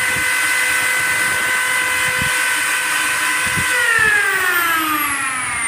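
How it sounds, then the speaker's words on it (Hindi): An electric drill machine runs steadily near an electricity meter, a loud continuous whine with tonal overtones that shift slightly toward the end, with faint knocks underneath and no speech. "ड्रिल मशीन को मैंने ऑन किया"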